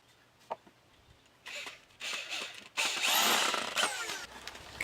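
A power drill driving normal deck screws into wood, several short whirring bursts that grow longer and louder, with brief pauses and light handling knocks in a quiet space.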